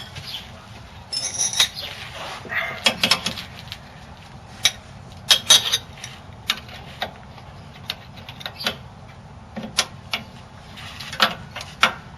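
Bolts on the rear shock of a 2004 Toyota Tundra are tightened with a ratchet, producing quiet irregular clicking runs and metallic ticks, close and soft over a faint background hum.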